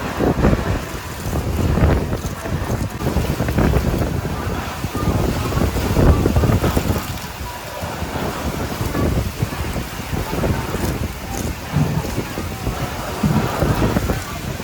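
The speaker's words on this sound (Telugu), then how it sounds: "వర్షం కూడా బాగా పడుతుంది." Heavy rain and strong wind lash an open place during a thunderstorm, a dense continuous roar with gusts buffeting the microphone and a voice faintly underneath.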